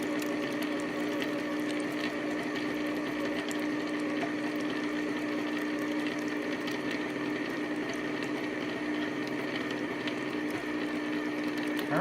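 A 1981 Oster Kitchen Center meat grinder runs continuously at close range, a steady mechanical whir and hum that holds an even level throughout with no talking.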